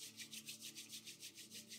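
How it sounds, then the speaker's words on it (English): Hands rub briskly together in a breathwork session, about a dozen even back-and-forth swishes in quick rhythm, close and quiet, with no voice over them. "Rub your hands together."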